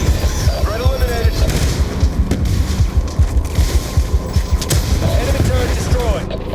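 An enemy turret is destroyed in the Black Ops 2 video game amid a rapid, loud barrage of booms and gunfire-like blasts, with a terse in-game voice speaking over the explosions.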